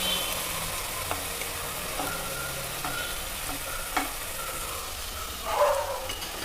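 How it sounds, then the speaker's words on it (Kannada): Tomato, onion and tempering for upma frying in a pan, a soft steady sizzle with occasional spoon scrapes and clinks, a brief louder stir near the end, no voices. "ಈಗ ಟೊಮೆಟೊ, ಈರುಳ್ಳಿ, ಇದು ಒಗ್ಗರಣೆ ಎಲ್ಲ ಕಂಪ್ಲೀಟ್ ಫ್ರೈ ಆಗಿದೆ"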